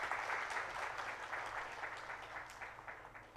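An audience gives steady, moderately loud applause for Advocate JK Mittal, a dense wash of many hands clapping at once without pause.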